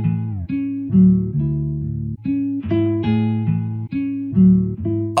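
A lo-fi synth melody from an FL Studio beat plays with its high end filtered off, giving a muffled, rounded tone. Stepwise notes loop continuously at an even, moderate loudness, with no talking.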